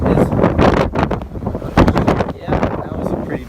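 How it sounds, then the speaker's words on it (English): Strong hurricane wind gust during Hurricane Irma in Miami, Florida, roaring and buffeting the microphone loudly for several seconds in surging waves, with no talk over it. "yeah, that was a pretty nice gust."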